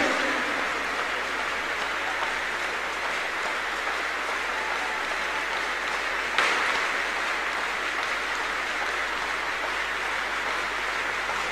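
A church congregation clapping as a clap offering, a continuous steady roar of many hands, fairly distant and even, with one brief louder burst midway.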